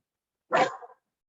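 A single short dog bark sounds once, close and clear, against silence.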